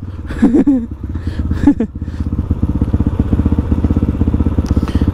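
A motorcycle ridden off-road on hilly trails at Sarangkot near Pokhara, its engine running steadily and close with a throbbing, revving drone throughout, and brief shouted voices early on.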